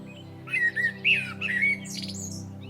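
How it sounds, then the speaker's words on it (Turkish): A few birds chirp and squawk in short, bright bursts nearby, several calls in quick succession over a soft, steady background hum. "Kuşların cıvıltısı neşeyle dolduruyor burayı."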